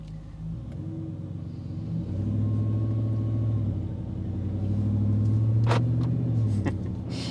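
A Jeep Gladiator with a 5.7L Hemi V8 pulls away, its deep engine rumble rising and falling through gear changes, heard steadily from inside the cabin with a few clicks near the end.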